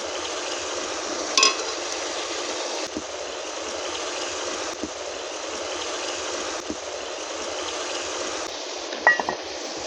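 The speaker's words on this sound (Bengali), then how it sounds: "ভালো করে নেড়ে দেব, আর একটু চিনি দিয়ে দেব।" Bottle gourd cooking in its own juices with fried egg stirred in, a continuous soft sizzle and bubbling in a pan, broken by a couple of sharp clinks of a utensil against the pan.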